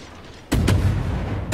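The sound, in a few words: ship guns firing in World of Warships video game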